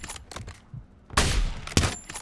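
Gunfire in a first-person shooter game played solo as a sniper: a couple of loud, sharp bursts of shots cut through quieter distant popping, with no talking.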